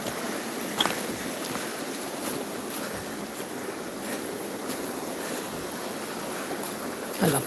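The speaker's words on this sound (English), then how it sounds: "I love that sound of running water." Running water of a woodland stream in Devon, England, a steady broadband rush that holds throughout, with a few faint knocks and no voices.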